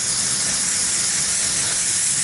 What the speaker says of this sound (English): I like to take some brake cleaner and just clean up the splines.